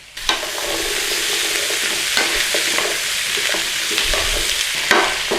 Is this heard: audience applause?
no